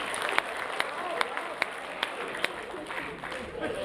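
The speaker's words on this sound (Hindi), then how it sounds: "बजाओ एक बार हाथ खड़े करके ताली" An audience at a Hindi comedy poetry show (hasya kavi sammelan) in Sonipat bursts into applause, with sharp, evenly spaced claps standing out above a steady wash of crowd clapping and noise.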